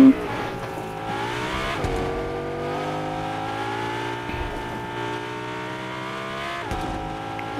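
A car in the Fortnite video game drifts with a droning engine note that rises and dips, a sustained tire squeal over it and brief bumps, all in steady game sound without talk.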